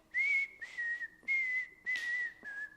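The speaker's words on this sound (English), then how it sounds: "Sorry about my whistling." A person whistles a simple repeated tune, five sustained notes at nearly the same pitch with short breaths between, close and clear, with no talking.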